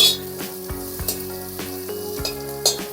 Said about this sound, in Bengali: বেগুনটাকে ভাজা ভাজা করে নেব।